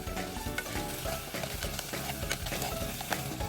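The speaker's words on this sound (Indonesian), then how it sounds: "Terus ini kita aduk sebentar aja hingga bumbu tadi tercampur rata." A utensil scrapes and stirs seasoned eggplant in a hot pan while it fries with a steady sizzle, close and continuous, and no one talks.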